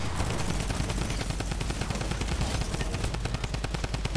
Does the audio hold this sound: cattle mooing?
no